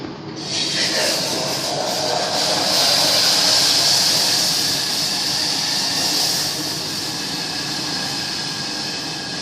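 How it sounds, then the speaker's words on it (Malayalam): Liquid comes to a rolling boil in a heated pot, producing a loud, steady broadband hiss and rumble that swells within the first second and holds evenly throughout, with no voices. "തിളച്ച് നല്ലവണ്ണം തിളച്ച് വരണം."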